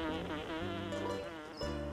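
A close wool carder bee buzz with shifting pitch, droning and wavering as it moves back and forth and hovers, no talking.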